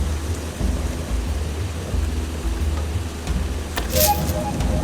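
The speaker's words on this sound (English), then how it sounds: "It's raining right now" Rain and thunder in the fantasy role-playing game Eschalon: Book II, a steady wash of rainfall with low rumbles and a sharper thunder crack near the end, no talk.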